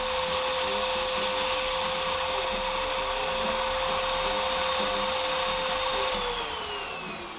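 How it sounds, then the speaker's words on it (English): A loud, steady vacuum whine with a rough whooshing roar from a record cleaning machine vacuuming a vinyl record runs throughout, its pitch sagging as the motor winds down near the end. "I'll vacuum up the first one."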